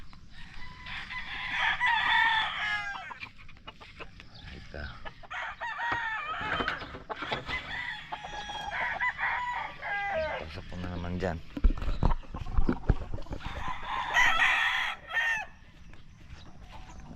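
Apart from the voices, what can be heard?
many birds making noise, chickens and roosters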